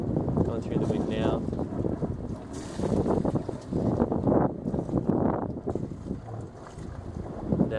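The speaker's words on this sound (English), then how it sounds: "Going through the wind now." A Hanse 430 sailboat tacks through the wind, with heavy gusting wind buffeting the microphone and water rushing against the hull, loud and close, while someone speaks intermittently.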